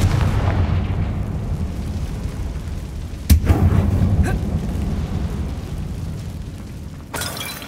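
A Confringo fire spell explodes inside an abandoned mine tomb in the Hogwarts Legacy video game, a sharp blast with a crackling tail over a low rumbling game backdrop, followed by a second burst later.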